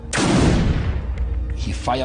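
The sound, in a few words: gunshot fired into the air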